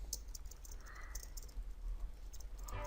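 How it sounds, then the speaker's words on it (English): Computer keyboard typing as text is entered, a quiet run of rapid, irregular key clicks continuing steadily throughout. "if I go into this text box now and I'll start typing again"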